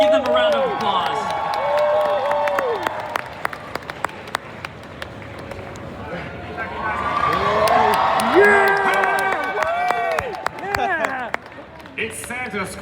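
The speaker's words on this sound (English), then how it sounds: "Give them a round of applause." Convention crowd at a comic con panel with voice actors applauding and cheering, with whoops and clapping rising and falling under ongoing talk from a host and guests.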